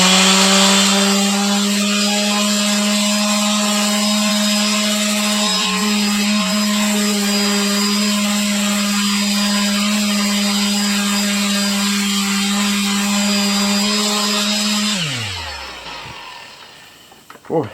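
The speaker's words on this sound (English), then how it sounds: "this is the first time I'm using this sander to prep a fossil" A power sander grinds steadily against a fossil sawfish shark from Lebanon, a loud, close, constant whine with tonal hum for about fifteen seconds before winding down and stopping.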